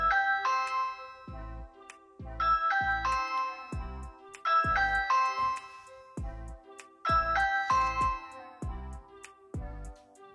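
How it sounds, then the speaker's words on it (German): A Ring Video Doorbell plays its ringing notification chime over and over, a bright melodic sequence of bell-like tones repeating in clear bursts, close and loud with no talking. "Wenn jetzt jemand bei euch klingelt und ihr unterwegs seid, dann kriegt ihr das direkt aufs Handy drauf."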